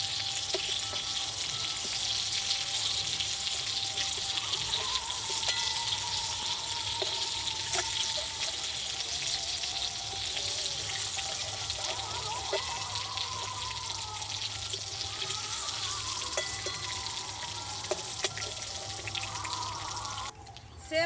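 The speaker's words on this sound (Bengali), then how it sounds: "এরকমভাবে আমি বাকি পটলগুলো ভেজে নেব" Pointed gourd pieces (potol) sizzle steadily in a frying pan, a close, continuous hiss with occasional stirring clinks and a brief run of water, ending abruptly.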